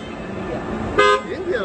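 A PIAA snail-type car horn sounds one short, loud honk of about a fifth of a second, breaking through a steady background hum, with faint voices around it.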